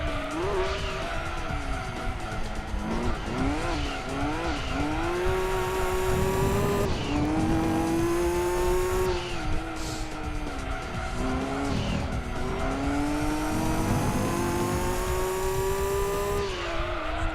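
Race car engine in Gran Turismo 2 at Laguna Seca, held in third gear under engine braking, whining and shifting pitch with long rising tones, mixed with sustained tire squeal through corners; loud and continuous throughout.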